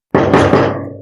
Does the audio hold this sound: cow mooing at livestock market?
no